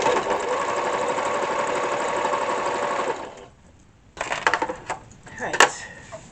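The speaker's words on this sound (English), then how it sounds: "I'm gonna just go ahead and stitch the bands and prepare them for the bag." Sewing machine stitching straps for a tote shopping bag: a steady, fast mechanical whir running for about three seconds, then stopping, followed by a few short clicks and handling knocks close by.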